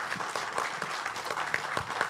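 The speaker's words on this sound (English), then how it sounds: "round of applause." Brief applause at a company gathering, a dense patter of clapping hands from a nearby crowd, steady throughout with a few sharper claps standing out.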